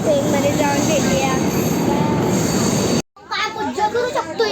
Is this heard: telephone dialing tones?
no